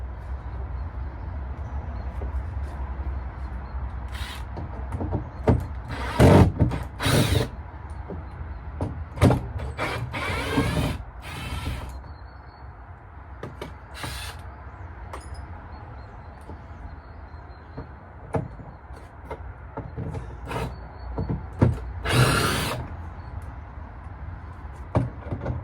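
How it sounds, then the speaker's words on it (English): A power tool cuts through a wooden floor beam in a house under renovation, a dense continuous grinding roar broken by several harsh bursts as the blade bites, close and loud throughout. "I can cut this floor beam out"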